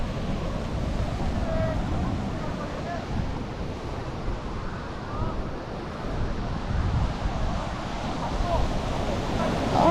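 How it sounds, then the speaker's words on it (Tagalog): Rough sea surf rolls continuously along the coast beside a bike path in Busan, a steady broadband wash mixed with gusting wind noise on the microphone, with faint voices in the background. "Maalon."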